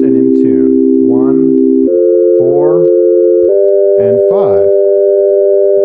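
Sustained just-tuned major triads on the first, fourth and fifth scale degrees sound as steady, in-tune chords that shift twice over the span, with a voice talking or singing over them throughout.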